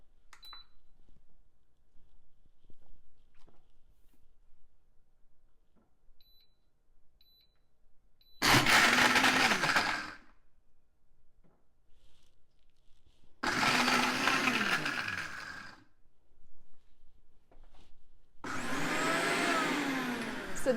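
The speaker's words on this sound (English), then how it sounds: "Let's go ahead and press the crushed ice function." An Instant Pot Ace blender crushes ice in three loud bursts of grinding roar separated by quieter pauses, with a few faint beeps from the machine beforehand and no one talking.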